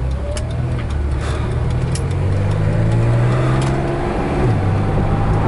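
A 1973 Mercedes-Benz 280 on a test drive, its engine a steady, close, continuous hum with road noise, rising and easing slightly through gear changes, with no talking.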